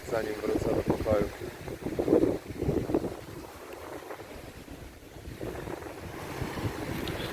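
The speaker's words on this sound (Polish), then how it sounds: "O, jakaś motorówka." A motorboat passes on the sea off the Dominican Republic, its engine drone blending with wind buffeting the microphone and the wash of waves, while someone talks over it.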